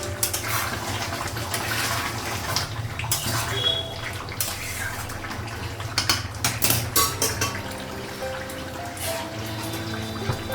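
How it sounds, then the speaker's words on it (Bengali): Water from boiled meat poured into a pot of duck curry with potatoes, a steady splashing pour close by, with pot and utensil clinks over a constant background hum. "মাংসটা সিদ্ধ করেছিলাম, এই জলটা লাগাবো।"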